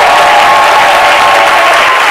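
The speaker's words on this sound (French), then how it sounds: "bienvenue avec les applaudissements renouvelés de notre cher public." A studio audience greets a TV show guest with loud, dense applause that fills the whole stretch evenly, a continuous wash of many hands clapping with no voices on top.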